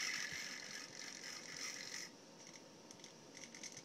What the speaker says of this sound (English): 180 degree servo for pan.